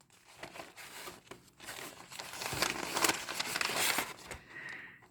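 Paper crinkles and rustles up close as someone rummages for a note, building into denser crackling bursts toward the middle before easing off, with no talk.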